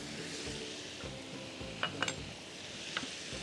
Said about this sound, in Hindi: तो इसको भी अच्छे से मिक्स कर देते हैं ताकि सारी स्पाइसेस इवनली डिस्ट्रीब्यूट हो जाएं